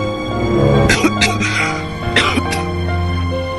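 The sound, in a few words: cartoon father coughing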